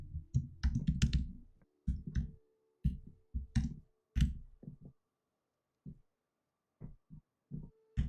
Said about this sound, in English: I'm typing in my password, everybody.